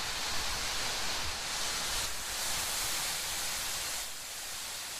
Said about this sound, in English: So here we are right under China's longest waterfall.